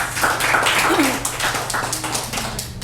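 Audience at a Korean studies symposium claps in a fairly brief round of applause, a dense patter of hand claps that stays steady and slowly thins, with no talking over it.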